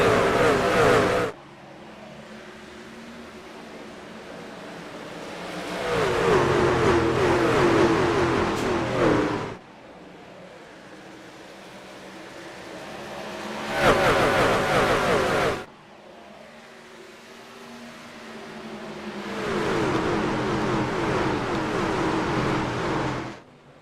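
NASCAR trucks race at Darlington under green flag, engines swelling loud as packs roar past in repeated waves, with quieter gaps between passes.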